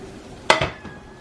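Meat is stirred in a pot, giving a brief clatter of a utensil against the metal, a quick clink followed by a softer second knock, close and alone.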